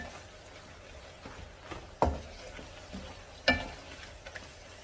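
Ravioli and garlic powder are stirred in a pan, producing a faint, close sizzle with quiet scraping and two distinct utensil clacks against the pan. No one speaks.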